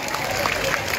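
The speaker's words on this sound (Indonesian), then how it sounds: "tepuk tangan yang meriah" Applause from a crowd of volunteers at an outdoor gathering on a football field in Aceh, a dense steady wash of clapping and crowd noise filling the whole moment.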